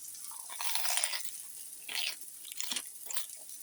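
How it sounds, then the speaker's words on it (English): Crisp crunchy bites into a grilled cheese sandwich filled with meat, three or four close, distinct crunches with chewing in between, heard alone without talk. "Let's just bite into it and see what we think."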